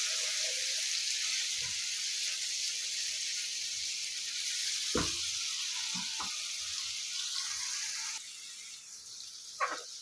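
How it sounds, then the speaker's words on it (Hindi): Spices with red chilli and turmeric frying steadily in a pan, a constant close sizzle with a few soft clinks and taps from stirring, alone without talk. "सब मसालों को अच्छी तरह से भूनेंगे"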